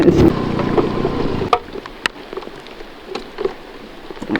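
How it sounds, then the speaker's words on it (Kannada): Heavy rain pours while a scooter rides along, a loud rushing wash for the first moment that drops to a softer steady hiss dotted with sharp drop taps and knocks. "ಮಳೆ ಸ್ವಲ್ಪ ಸ್ವಲ್ಪ ಜಾಸ್ತಿ ಆಗ್ತಾ ಇದೆ"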